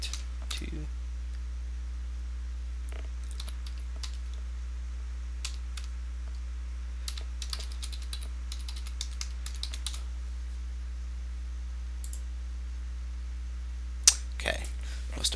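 Fingers type on a computer keyboard while a Windows Server 2008 R2 cluster is set up, quiet scattered keystrokes in short bursts over a low steady hum, with a louder clatter near the end.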